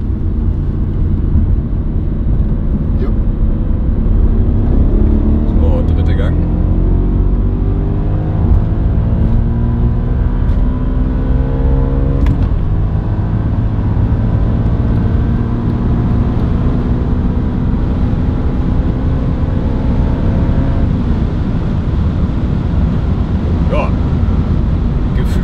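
Audi RS4 B7 after an engine swap accelerating hard from 100 to 200 km/h, heard from inside the car as a loud engine roar rising through the gears, with pitch climbs broken by brief shift drops.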